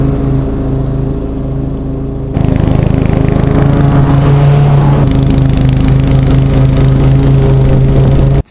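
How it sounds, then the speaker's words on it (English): A Toro Timemaster 30-inch lawn mower cuts Bermuda grass, its engine roaring loud and close and stepping up in load partway through, then cutting off abruptly at the end. "The mower will be strong and power through that Bermuda."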